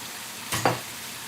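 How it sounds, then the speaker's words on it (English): Brussels sprouts drop into a pan of boiling salted water, making a brief close splash with a short burst of bubbling that settles back into a quiet kitchen background. "you've got your pan of boiling salted water. Put your Brussels sprouts in there."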